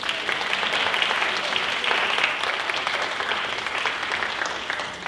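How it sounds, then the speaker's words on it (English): A talent-show audience gives Primo a loud, sustained round of applause after his magic tricks. The clapping is thick and continuous, swelling a little midway and easing slightly toward the end. "ladies and gentlemen, a round of applause for Primo"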